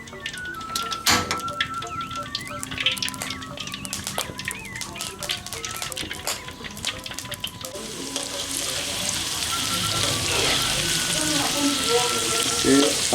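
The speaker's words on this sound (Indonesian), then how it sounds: "kita akan goreng bawang merah dulu ya Sultan" Shallots fry in hot oil while Balinese chicken lawar is being made. Clinks and stirring come first, then a loud, steady sizzle that builds and stays close.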